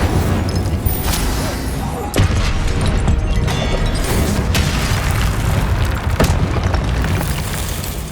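Repeated booming fire-spell blasts in the Hogwarts Legacy video game, several heavy bursts over a dense, loud backdrop of battle noise and music, with sharp cracks at intervals.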